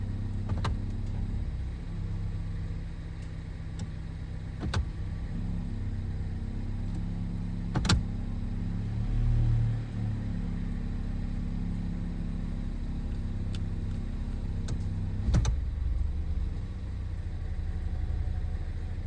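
A Ford Escape engine idles steadily with a low, constant hum while the transmission is shifted through its gears, a few faint clicks and clunks rising briefly above the drone.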